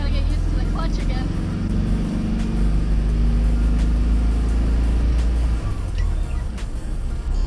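An S&L SeaTiger anchor windlass on a sailboat, fitted with a new starter, runs with a continuous low motor rumble and a mechanical whir, loud and close for several seconds, with a voice briefly over it.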